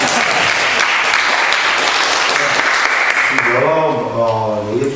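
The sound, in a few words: audience applause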